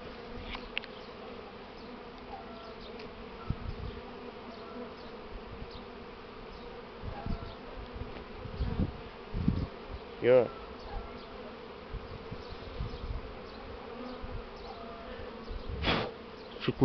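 A first swarm of honeybees hums near a hive landing board while the queen is being caught, a soft, continuous buzz with faint scattered handling knocks and a couple of louder bumps.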